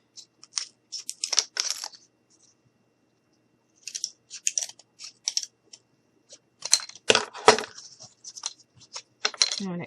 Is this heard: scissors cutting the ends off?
yes